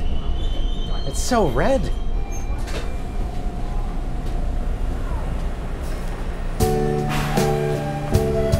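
A subway train pulls into Bessarion Station, with a rising-and-falling motor whine, steady rumble, then a multi-tone chime or announcement signal near the end; a person speaks briefly over it.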